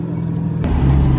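A Dodge Hellcat engine rumbles loud and close at a late-night street meet, a deep low drone that swells briefly as the car passes or revs.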